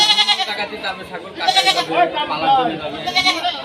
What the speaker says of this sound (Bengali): দেখ এই ছাগলগুলো